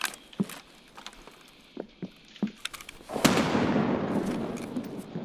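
A grenade blast in a first-person shooter video game booms out after several sharp, scattered gunshot pops, the explosion loud and followed by a long rumbling decay.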